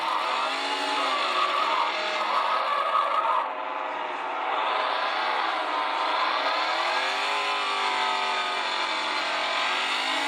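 Nissan GTR race car engine heard on board, a loud, continuous high-revving roar that rises and dips with gear changes and throttle for about ten seconds, with no voices.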